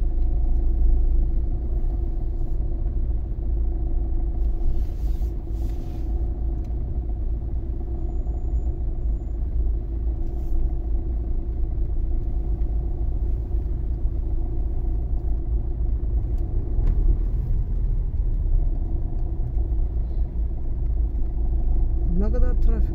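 Heavy road traffic in Istanbul makes a steady low rumble of idling and creeping engines, constant and fairly loud throughout, with faint voices under it.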